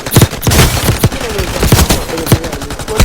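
Close, loud gunfire from the shooter game Warzone Mobile on Rebirth Island, with sharp shots cracking in quick irregular bursts and short runs throughout.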